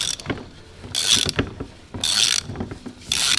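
A T70 Torx ratchet loosens the pressure accumulator on a DSG gearbox, giving close mechanical clicking and rasping ratchet bursts in short repeated pulls with pauses between them.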